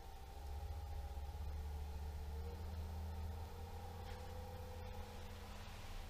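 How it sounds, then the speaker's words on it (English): A variable speed pool pump runs at a low 1000 RPM, giving a steady, quiet motor hum with a faint rushing noise. It stays even throughout, with no talking. "Variable speed pumps are extremely quiet, especially at the low RPMs"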